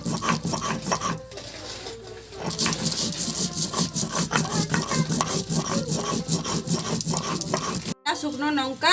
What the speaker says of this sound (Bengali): ধনে আর জিরা আমি বেটে নেব একসাথে।